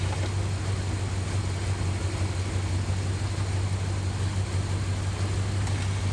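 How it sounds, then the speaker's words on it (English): A Dodge RAM 1500 engine runs steadily with the air conditioner on, giving a constant low hum and broad droning rumble with no change in pitch and no voices. "I wonder why the engine is making this noise. Because the air conditioner's on."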